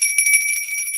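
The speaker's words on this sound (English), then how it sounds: "I'm going to ring the bell." A bell rung once at the close of a personal check-in, its bright ringing tones sustaining steadily and shimmering throughout the short second without any voices.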